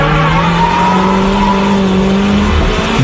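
A Toyota MR2 brakes hard into a corner while drifting, its loud engine droning steadily with a falling pitch as faint tire squeal rides along, close and continuous without a break.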